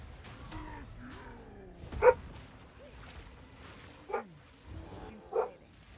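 A dog gives a few short, sharp barks and yips over game music and effects, with the bursts spaced irregularly across the stretch.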